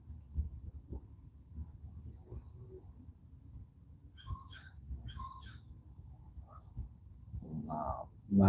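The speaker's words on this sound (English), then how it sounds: "No, that's definitely a crow." A crow caws in a few short, harsh bursts at moderate distance, with quiet low background rumble and a louder sound close by at the very end.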